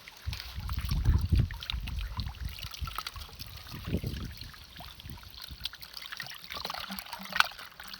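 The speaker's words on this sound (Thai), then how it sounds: "ล้างหม้อแล้วก็เอาซีนมาล้างพร้อมเพราะว่ามื้อนี้นี่เขาเอาซีน" Someone at a farm field hut washes a pot and pieces of venison in water, producing close, irregular splashes, sloshing and trickles with a few soft knocks, uneven in loudness, without any talking.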